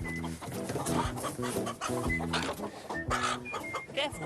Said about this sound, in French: Doucement, c'est mon coq de concours.